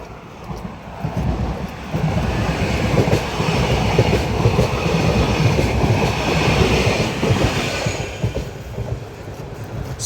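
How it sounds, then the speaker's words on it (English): A train rolls past on a busy stretch of railway line near a canal footpath in Wigan, a loud, close, continuous rumble with rattling wheels that swells after the first couple of seconds and holds steady before easing. "Is this another train?"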